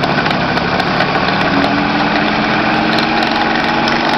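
A SUN distributor tester runs at speed with a loud, steady motor drone and mechanical whine that stays constant and close throughout.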